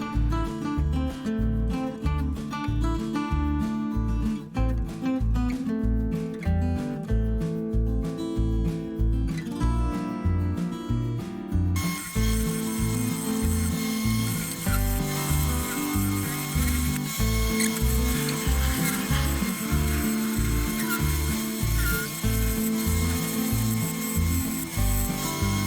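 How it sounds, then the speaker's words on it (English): Black locust wood spins on a lathe while a round carbide bit cuts into it, producing a steady, rhythmic rubbing and scraping with a repeating thump from the turning chunk, continuous and close. "My round carbide bit to kind of curve the bottom of this chunk of wood."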